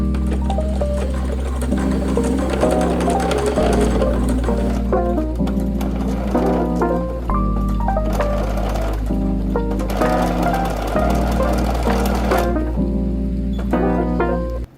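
Home sewing machine running a zigzag stitch on stretchy lace knit fabric for lingerie, a steady loud mechanical whir and rapid ticking that continues without a break, with no one speaking.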